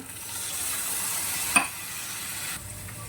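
Spice masala sautés in a pan with salt and a splash of water, giving a steady close sizzle with stirring scrapes and one sharp clink midway.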